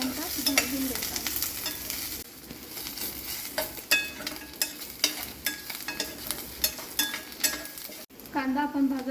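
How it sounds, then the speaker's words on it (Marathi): Onion frying in a pan, a soft steady sizzle broken by repeated sharp scraping strokes of a spatula stirring against the metal, close by and fairly quiet. "कांदा गुलाबी रंगाचा होईपर्यंत भाजून घ्यायचा।"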